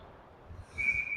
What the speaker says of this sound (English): We get a whistle for icing.